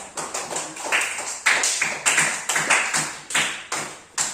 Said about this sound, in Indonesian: Berikan aplaus buat.